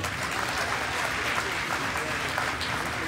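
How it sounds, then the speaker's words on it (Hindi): Audience applause at a Jain monk's sermon in Satna, a steady, dense wash of clapping from a large crowd, sustained and even throughout without breaks. "एक बार जोरदार तालियां लगा।"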